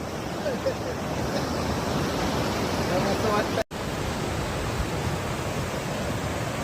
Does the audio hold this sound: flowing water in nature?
yes